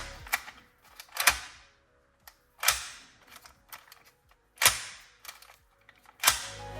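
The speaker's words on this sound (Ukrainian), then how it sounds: "Давайте послухаємо, як працює замок." A Santos 3 Way DIN 352RL reversible door lock being operated, producing about six sharp metallic clacks and ratcheting clicks in irregular clusters, close and fairly loud, with quiet gaps between them.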